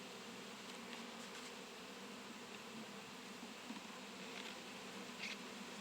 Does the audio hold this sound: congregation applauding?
no